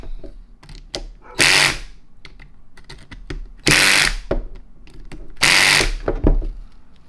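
A Cornwell air impact wrench, a CAT3125 3/4-inch model, driving bolts down, with three loud whirring hammering bursts separated by quieter ratchet clicks and handling noises, close up with no talking.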